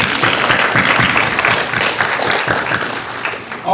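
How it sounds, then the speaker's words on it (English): Audience applause at a school district MLK program, dense, loud clapping from a large crowd, steady throughout. "Let's give all those a round of applause."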